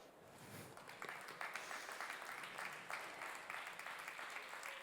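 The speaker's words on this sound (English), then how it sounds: "So please, warm applause for our first female founder." Warm audience applause at a startup event stage, a sustained patter of many hands clapping at moderate distance with no speech over it.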